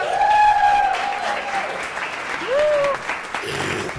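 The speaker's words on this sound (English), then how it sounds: "Please give them all a round of applause." Audience applause for the evening's sponsors at a Women Grow NYC cannabis panel event, a steady wash of clapping with whoops and cheers rising over it for about four seconds.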